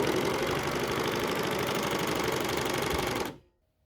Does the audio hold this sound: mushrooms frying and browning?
no